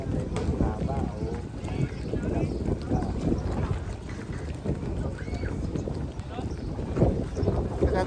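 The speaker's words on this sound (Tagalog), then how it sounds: "Malakas ang hangin, nako, delikado." Strong wind buffets a small boat on a trip to Hundred Islands, making a constant rough roar across the microphone over engine and water noise, with people talking throughout.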